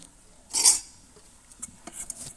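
A metal spoon stirs goat soup in a pot, one brief scraping clink followed by several light, quiet taps and scrapes against the vessel.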